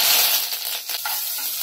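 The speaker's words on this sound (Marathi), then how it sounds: "थोडंसं जिरं टाकूया आणि थोडी राई टाकते, हिंग टाकले, थोडं कढीपत्ता टाकूया" Cumin, mustard seeds, asafoetida and curry leaves sizzle in hot oil for a tempering, a steady bright crackle close up, loud and continuous without speech.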